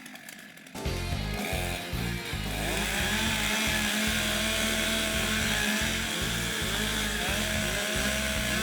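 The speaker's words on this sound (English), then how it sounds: "Warm up your saws." Several STIHL stock chainsaws idle and rev together at a standing block chop timbersports competition, a loud continuous buzzing drone with rising and falling throttle blips, close and steady throughout.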